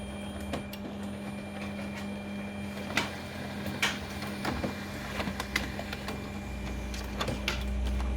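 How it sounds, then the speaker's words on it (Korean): Samsung SL-C483W color laser printer running a test page: a low steady mechanical hum with repeated soft clicks and paper-feed rattles, moderately close and fairly quiet, with a rumbling rise near the end. "지금 보시는 바와 같이 인쇄가 되었습니다."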